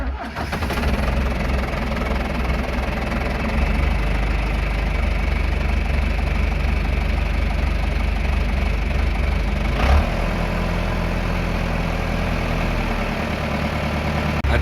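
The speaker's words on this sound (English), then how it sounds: "you gotta love the beautiful sound of a John Deere diesel" John Deere diesel tractor engine idling close by on a farm, a loud continuous low chugging rumble with a steady knocking pulse throughout and a brief shift near the end, no talking.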